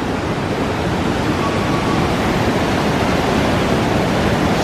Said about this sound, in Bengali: দেখুন স্রোত, দেখুন স্রোত।